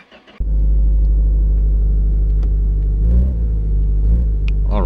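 A loud video-game car engine with a missing exhaust drones at a steady low rumble, swelling briefly partway through as if revving, with no talking over it.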